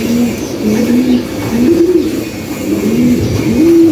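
Pigeons in a loft coo repeatedly in low, soft warbling phrases against a steady indoor hum, close by and continuous.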